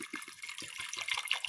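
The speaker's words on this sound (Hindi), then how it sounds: "उसमें मैं पानी डाल दूंगी थोड़ा।" Water pours briefly into a pressure cooker holding soaked chickpeas, a quick gurgling splash with a rapid bubbling rhythm, close and fairly quiet.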